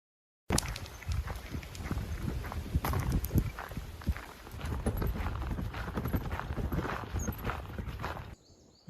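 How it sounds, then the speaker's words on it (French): Hooves of horses roaming free on open pasture clip-clop in an irregular walking rhythm, close and fairly loud, over outdoor rumble and no talk. "Les chevaux ici, ils ont des hectares pour eux."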